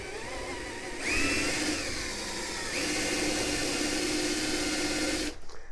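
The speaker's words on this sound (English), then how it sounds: "We're going to drill this as deep as we can" A power drill with a 1/4 inch bit whirs steadily for several seconds, drilling a pilot hole in wood for a stair handrail, its pitch rising as it starts and dipping briefly mid-run, then stopping abruptly.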